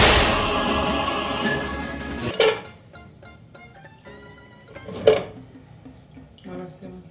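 Pots and pans clatter and clank in a home kitchen while potatoes are cooked for tartiflette, with two sharp metallic knocks among lighter clinks, and people talking throughout.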